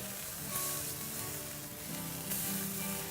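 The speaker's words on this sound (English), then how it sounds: "take our tomatoes, slice them up, and get them roasting inside of the pan" Sliced tomatoes roast in a hot pan on the stovetop for chicken tinga, giving a soft, steady sizzle with gentle crackling throughout and no one speaking.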